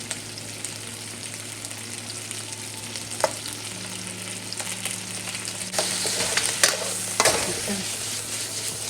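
Chicken wings sizzling and frying in a pan with soy sauce for braised wings, a steady hiss of frying throughout with occasional utensil clinks and stirring, growing slightly louder toward the end.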